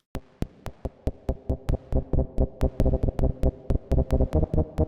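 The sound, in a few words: synthesizer note with decay adjusted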